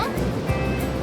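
Waves wash over a stony beach in a brief burst of surf, a steady rushing hiss with a low thump midway, heard close and loud.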